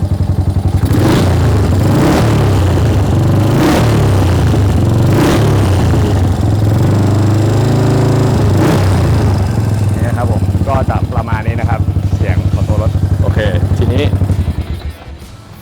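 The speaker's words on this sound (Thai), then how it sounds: "เรามาฟังเสียงเบิ้ลของรถกันนะครับ" A Yamaha SR400 motorcycle engine idles close and loud, revved hard several times in sharp bursts before settling back to a steady idle.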